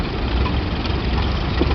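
A small McCormick W4 standard tractor engine idles nearby with a low, steady rumble.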